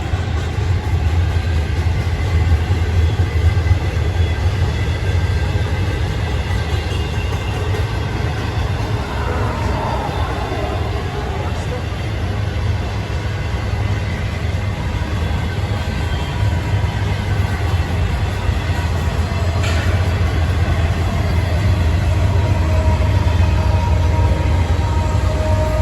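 A Union Pacific freight train with a DPU locomotive rolls steadily past at Grand Prairie in Arlington, Texas, a continuous loud low rumble of wheels and cars on rail with a faint horn-like tone partway through, no talk.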